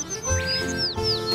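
Cartoon bird chirps in a high, sweeping series of short tweets, several rising and falling calls over about a second and a half, clear and alone without talk.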